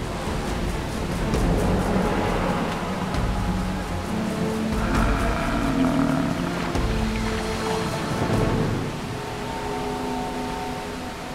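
A river's strong current surging past as a bison herd crosses, a steady broad rush of churning water with swells of louder turbulence and no talking.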